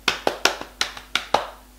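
Children's body percussion of hand claps and knee taps: a quick run of sharp, close slapping hits in a steady rhythm, the stronger strikes interleaved with lighter ones.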